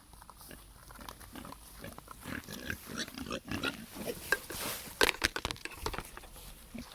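Farm pigs being fed garden harvest scraps grunt and snort up close, with steady crunching and shuffling noise throughout and louder bursts of activity toward the end.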